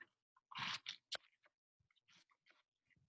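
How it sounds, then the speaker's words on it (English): A knife chops through a whole head of regular green cabbage in crunchy, irregular bursts, with a loud cluster early on and softer scattered cuts after, close up with no talking. "You chop that up with a nice knife."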